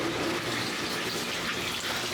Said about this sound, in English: You could just hear it already filling up